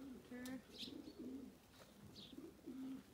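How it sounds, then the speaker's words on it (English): A dove coos in soft, low repeated phrases, several calls in a steady rhythm, faint and slightly distant, with a few light chirps from other birds in the background. "Oh, it's a dove."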